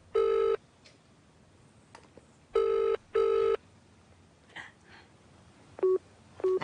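An electronic telephone ring sounds in three short bursts, then two quicker chirps, close and clear over a quiet room with faint background noise and no talk.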